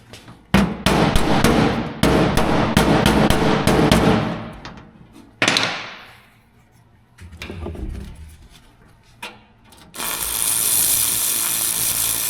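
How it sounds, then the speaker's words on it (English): Hammer blows while fitting a 1938 International cab onto an S10 chassis: close, loud bursts of rapid metallic strikes separated by short pauses, followed later by a steady hiss. "I think we're gonna need a hammer for some of that."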